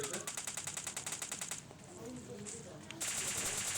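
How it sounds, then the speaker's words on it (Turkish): Automatic gunfire in the mobile battle game PUBG Mobile Lite, rapid rhythmic bursts that stop briefly and resume, with a voice speaking in the background. "100 kişi sıkıyorlar baksana."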